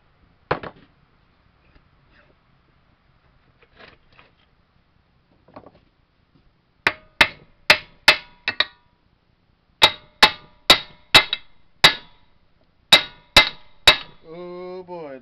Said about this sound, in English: I'm going to go ahead and hammer it off.